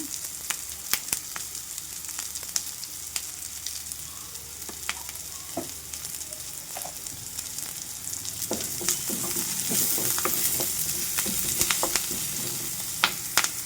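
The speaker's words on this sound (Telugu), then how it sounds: "అటు ఇటు తిప్పుకుంటూ చక్కగా ఫ్రై చేసుకోవాలి." Amaranth and fenugreek leaves with turmeric fry steadily in a pan, sizzling and crackling nonstop, with scattered scrapes and clicks of stirring, growing slightly louder toward the end, with no one talking.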